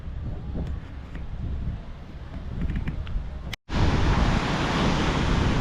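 Strong wind and rolling surf roar on a Sri Lankan beach in the low season, a dense continuous rush that briefly cuts out, then returns louder and brighter.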